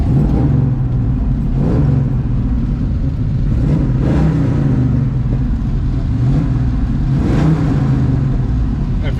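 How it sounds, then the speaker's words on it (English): A 1971 Dodge Challenger R/T big block with headers and Flowmaster mufflers runs steadily, loud and close, with a deep rumble. Several throttle blips rise and fall over the idle. "There's nothing like the sound of a big block with headers on it."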